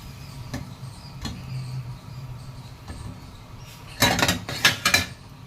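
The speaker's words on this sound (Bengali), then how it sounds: "এই যে মাছটা এবার আমি ঢেলে দেব।" Fish goes into bubbling water in a clay pot. A quiet simmer with a few light taps gives way near the end to a louder burst of splashing and clattering.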